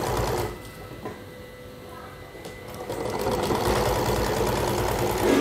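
An electric sewing machine stitches a sleeve onto a suit, its steady mechanical whir running continuously and growing a little louder toward the end, with faint voices in the background.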